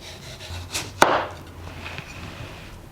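A knife slices down through a slab of radish on a cutting board, a single sharp chop landing firmly against the wood, with a softer knock just before it, then quiet.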